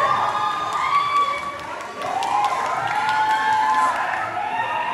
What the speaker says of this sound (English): Please give him a round of applause as the PLUUS new team leader.